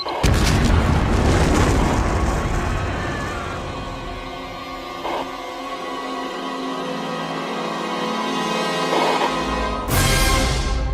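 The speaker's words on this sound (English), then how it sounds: "We're just getting reports of a volcanic explosion." A volcanic explosion as a deep, heavy boom with a rumbling roar that swells, eases into a sustained low rumble, then surges again near the end, loud and dense throughout.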